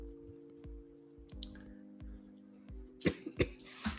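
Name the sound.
cough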